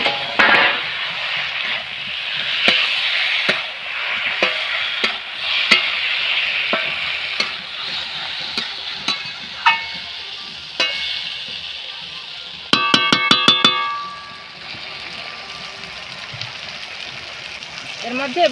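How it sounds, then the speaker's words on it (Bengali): Eggplant stir-fried in a pan with spices and previously fried egg, giving a steady close sizzle with repeated scraping and clinking of the spatula, and a brief sharper burst near the end. "বেগুনগুলো আমার কি সুন্দর ভাজা হয়ে গেছে মশলা দিয়ে"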